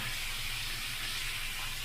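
Bottle gourd leaf fritters with bamboo-leaf dried fish fry in a pan with a loud, continuous, close sizzle that stays even throughout.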